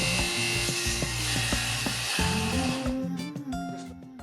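A power saw cuts a hole through a wooden floor for a railing post, a loud hissing, grinding whir with rhythmic knocks that trails off near the end of the few seconds.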